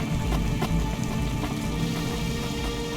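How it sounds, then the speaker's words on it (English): Rain falls steadily in the dark, rainy cyberpunk city of the video game Cloudpunk, a dense continuous patter with scattered louder drops and no talking. "Yeah, it never stops raining."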